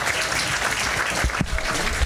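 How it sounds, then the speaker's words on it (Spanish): Festival crowd applauding at a Noche de San Juan celebration in Chiloé, Chile, with steady dense clapping throughout and a few louder hand claps standing out near the end. "Recibamos con un fuerte aplauso a don Hermógenes Ulloa, don Moe."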